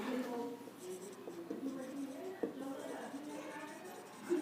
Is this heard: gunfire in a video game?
no